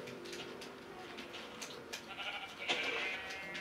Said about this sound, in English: Oh sheep, we need that.